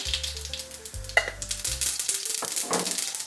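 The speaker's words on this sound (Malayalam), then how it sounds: "അപ്പോൾ അതിലോട്ട് നമുക്ക് കുറച്ച് കടുകിടാം" Mustard seeds splutter in hot oil for a cabbage carrot thoran, giving off crackling pops and bright sizzling bursts that grow busier over a few seconds. Low tonal hum from the kitchen fades out early.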